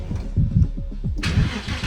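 A cheap, fault-laden Porsche 911 with a full tank of oil turns over with low rhythmic cranking, then catches at once and settles into a loud, close running engine note.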